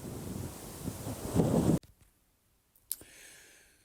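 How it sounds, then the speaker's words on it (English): Gusty outdoor wind buffets the microphone at a concrete testing site, a loud rough roar that cuts off abruptly midway, followed by near silence and a faint return of wind. "A little windy right there."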